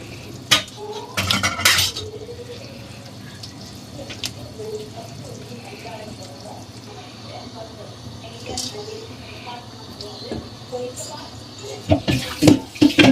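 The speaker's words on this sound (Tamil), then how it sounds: "நம்ம மீனை எடுத்து ஒவ்வொன்றாக போட்டு விடவும்" Fish pieces are dropped one by one into boiling fish curry, with clinks and clatters of utensils and the pot, soft bubbling and splashes in between, while a person talks over the cooking.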